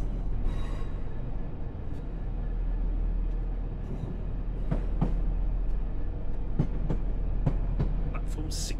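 A train runs on the Fife Circle route toward Edinburgh Waverley in Train Sim World 4, a steady low rumble with scattered sharp clicks and clacks over the rails, continuous and fairly loud.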